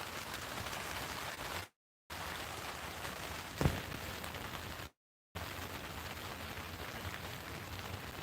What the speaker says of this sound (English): Oh wow, that rain is bad.